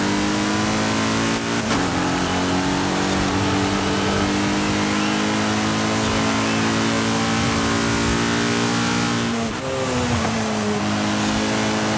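A BMW M3 G80 in Forza Horizon 5 accelerates hard, its engine note climbing steadily through the gears with brief dips at shifts, loud and continuous with no talking.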